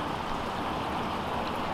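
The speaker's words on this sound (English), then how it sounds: "Look, you see the water moving." Steady, close water flow in a small garden stream at a botanical garden in Bellevue, Washington, a continuous soft gurgling wash with no voices.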